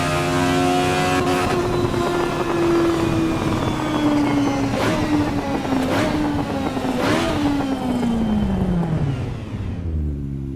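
A Toyota AE86 Hachi Roku with a 20-valve engine revs hard in Assetto Corsa Evo at Suzuka, a loud buzzing engine note that holds high, climbs with brief shift breaks, then falls away as it slows.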